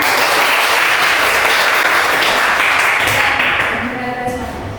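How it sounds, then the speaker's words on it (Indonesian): A classroom of pupils applauds together after finishing their work, a dense, loud wash of clapping filling the space and slowly thinning toward the end, with some voices mixed in. "Sekarang tepuk tangan dulu buat kita semua."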